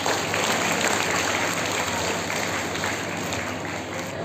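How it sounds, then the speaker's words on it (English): Audience at a school Independence Day celebration claps in a steady, moderately loud wash of applause lasting around four seconds, easing slightly toward the end with no clear speech over it. "Can we have a huge round of applause for them?"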